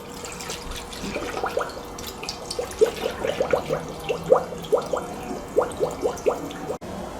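Coolant trickles and gurgles through a funnel into a Yamaha FZ09 motorcycle, a quiet run of irregular liquid glugs and drips, close and faint.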